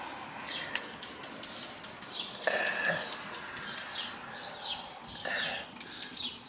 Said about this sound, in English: Guess we'll just spray it all down.